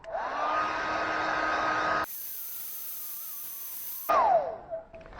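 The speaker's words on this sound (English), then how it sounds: "we're going to actually heat this up with the blow dryer a bit before I peel that" A hair dryer heating a car emblem whirs steadily nearby, its motor tone droning, briefly masked, then rising again before winding down near the end.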